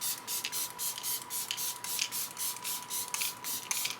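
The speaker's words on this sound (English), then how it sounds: "I'm actually gonna go in with this Dibs Love Beam setting spray" Short bursts of Dibs Love Beam setting spray hiss out in a steady rhythm, about a dozen quick pumps close to the mic, with no talking.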